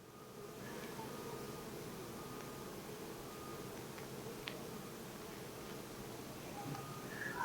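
Honey bees around an opened hive during beekeeping in Colorado, a continuous soft buzzing drone that fills the air with a few faint, brief sounds over it.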